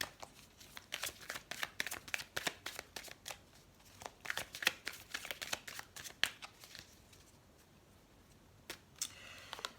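Tarot cards shuffled for a six-card reading, quiet close rapid flicking and riffling in uneven bursts that thin out toward the end, with no talk.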